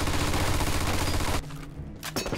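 Machine gun fire in the video game Mafia 2 Definitive Edition roars in a dense, loud continuous burst, then cuts off abruptly, leaving scattered echoing shots and rumbling debris.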